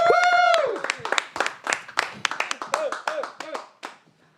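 Comedy club crowd in Cork clapping and cheering for comedian Sinead Walsh, opening with a loud whoop, then a dense run of applause that thins out and fades to a few scattered claps.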